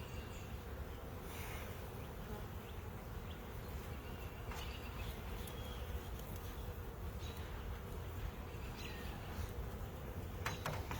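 Honeybees swarm around an open beehive during an inspection, a dense constant buzzing close by with occasional louder individual bees flying past and no talking.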